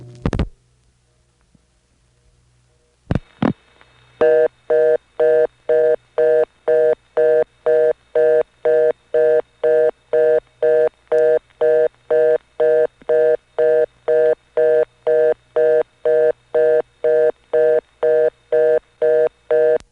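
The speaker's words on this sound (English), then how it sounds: "let's get that reorder tone from the White Plains 1 Crossbar Tandem" A telephone reorder tone from a White Plains 1 Crossbar Tandem switch: a steady fast-busy pattern of evenly spaced, loud beeping bursts repeating many times, preceded by a few clicks of line switching.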